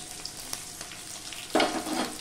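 Chopped onion and green chillies drop into hot oil in a pan, with a soft background sizzle followed by a sudden louder burst of frying as they hit the oil.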